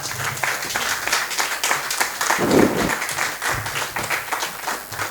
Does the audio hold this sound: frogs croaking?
no